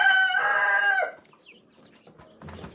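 Young Rhode Island Red chicks and Muscovy ducklings on a small hobby farm, with a loud burst of bright, layered peeping and clucking for about a second, then faint scattered chirps and rustling.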